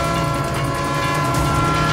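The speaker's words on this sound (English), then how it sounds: "Oh no, there's a train." A train in a movie scene, its steady rumble and clatter filling the short moment at close, even loudness with no talk.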